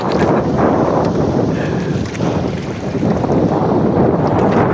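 Small boat tossing on rough, rolling sea waves off an island in bad weather: a loud, constant rush of water and blustery wind buffeting close to the microphone, with no clear speech.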